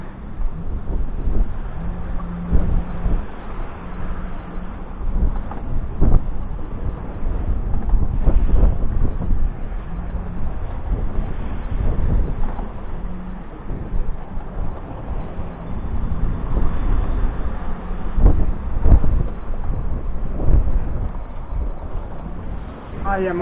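Constant wind roars and buffets across the microphone aboard a sailboat sailing alone off the French Atlantic coast between La Turballe and Saint-Gilles-Croix-de-Vie, with the wind coming from behind. The loud, dense rush continues without a break.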